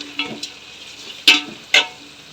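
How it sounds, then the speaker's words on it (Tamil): Onions sautéing with green chillies in a pan for chicken biryani, a steady close sizzle with a few sharp scraping stirs near the end. "அங்கே நல்லா வெங்காயம் வதங்கிட்டு இருக்கு ஃப்ரெண்ட்ஸ்"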